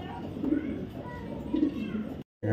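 Female black checker racer pigeon cooing in low, throaty pulses, two swells of burbling coos close by, with a brief gap near the end.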